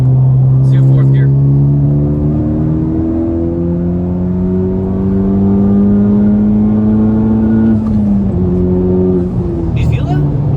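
A Honda Civic Type R, just repaired after a boost leak, pulls hard through fourth gear, its engine note climbing steadily and loudly with rising harmonics, a brief dip around a shift, while occupants talk over it.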